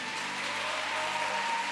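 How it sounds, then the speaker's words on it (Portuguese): A church congregation applauds together, a dense continuous wash of clapping that stays loud and even for a moment with no voices on top. "E eu quero que você dê a mais forte salva de palmas que você puder dar."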